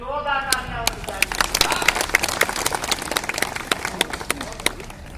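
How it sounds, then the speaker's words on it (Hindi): Crowd at an outdoor Hindi poetry gathering claps louder for a poet, a steady dense burst of hand claps with sharp individual smacks throughout, a voice speaking briefly at the start. "जोरदार तालियां होनी चाहिए"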